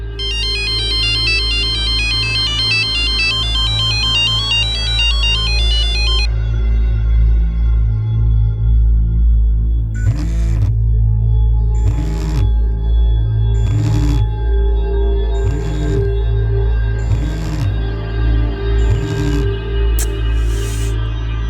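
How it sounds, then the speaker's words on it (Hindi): A phone rings with a bright, repeating electronic ringtone for several seconds and is left unanswered, followed by a row of evenly spaced low pulsing tones, all steady and fairly loud with no voices. "ये मनीषा मेरा फोन क्यों नहीं उठा रही?"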